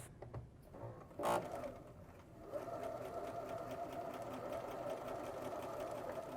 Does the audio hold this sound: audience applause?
no